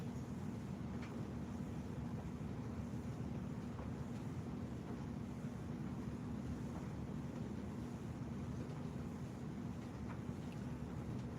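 Light, steady wind outdoors on an ice-fishing outing, a constant low rumble and hiss of about six or seven miles an hour buffeting the microphone throughout, with no talk.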